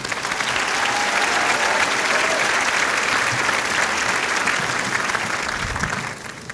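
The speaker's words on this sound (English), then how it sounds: "Let's give him another round of applause." Sustained applause from a large audience at a college commencement ceremony, steady and dense clapping throughout, tapering slightly at the end.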